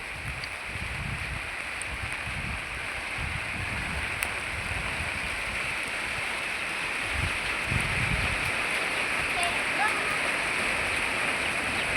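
Rain falls over a banana plantation in a constant, even wash of hiss, with faint low voices murmuring underneath now and then.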